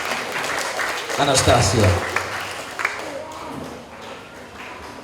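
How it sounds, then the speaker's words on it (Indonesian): Applause at an elementary school graduation and farewell at SD YPPK Santa Ursula, a short burst of clapping from the crowd for a pupil, heard under an announcer's amplified voice. "Ayo teman-teman beri aplaus untuk"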